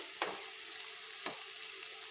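Bitter gourd pieces fried with jaggery are stirred in a pan, faint sizzling with two soft scraping strokes of a spoon.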